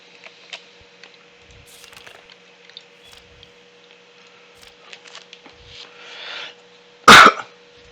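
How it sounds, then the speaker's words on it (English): A single sharp cough bursts out near the end after a stretch of faint clicks and quiet rustling, close and loud against an otherwise hushed background during a Minecraft session. "sorry for the cough"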